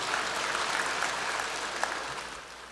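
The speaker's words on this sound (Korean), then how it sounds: "박수 한번 쳐주십시오." A church congregation applauds during a sermon, a dense, even burst of clapping from many hands that holds steady for nearly three seconds before starting to taper.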